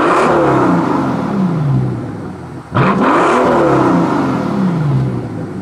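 A Mercedes S65 AMG with a 6.0L V12 on its stock exhaust, revved hard twice in a row, each rev climbing to a loud close roar and falling away before the next blip.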